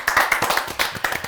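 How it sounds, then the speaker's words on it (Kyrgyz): A studio audience at a New Year entertainment show claps briefly for a team, a short burst of sharp, close, fairly sparse handclaps. "Анда 2020 командасына кол чабуулар."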